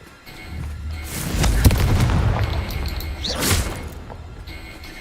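A Confringo explosive spell blast in Hogwarts Legacy, a deep booming thump swelling into a rumbling burst with sharp cracks, followed by a second whooshing blast, close and fairly loud.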